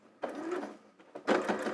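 A domestic sewing machine stitching quilt fabric for a block, running in two short mechanical bursts with a brief pause between, close and fairly quiet.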